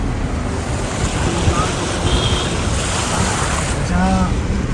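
Continuous rushing, splashing water noise with wind buffeting the microphone as a vehicle pushes through a stream on the road to Naran, Kaghan; a voice is faintly heard.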